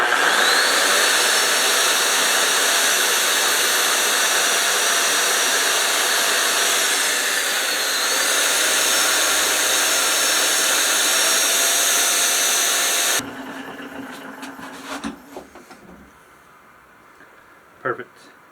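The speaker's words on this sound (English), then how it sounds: "once you finish grinding with the wire wheel and you've got all that scale off and it's back down to the metal" Wire wheel on a power tool grinding scale off a railroad spike being forged into an oyster shucker, a loud steady whirring grind lasting about thirteen seconds before cutting off to quieter workshop handling sounds.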